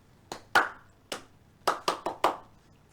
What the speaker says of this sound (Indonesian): Clue-nya adalah tepuk nyamuk